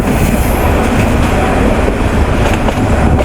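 A local train on the Lalmonirhat to Burimari line roars along steadily, a loud, dense rumble with faint rhythmic clatter of wheels on rails, heard from inside and unbroken throughout.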